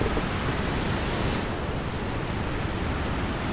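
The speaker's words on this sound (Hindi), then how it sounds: "काफी बड़ा वाटरफॉल है" A large waterfall pours with a steady, dense roar of rushing water, loud and continuous throughout with no voices over it.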